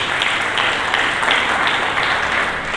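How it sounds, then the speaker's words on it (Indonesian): A church congregation claps together during a Good Friday service, a dense, steady wash of applause with faint rhythmic pulses, fairly loud and filling the whole moment without voices on top. "Mari kita berikan tepuk tangan bagi Yesus Kristus."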